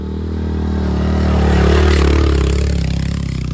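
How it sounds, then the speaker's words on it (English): On a hike up Mount Batur, an active volcano in Bali, a motorbike engine rumbles up from behind and passes close by, its drone swelling to a peak and then easing off. "be careful, motorbike from behind."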